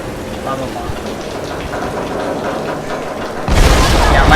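Lightning strikes in the Tomb Raider video game: a low rumbling wash of weather noise breaks into a sudden, loud thunder burst that carries on to the end.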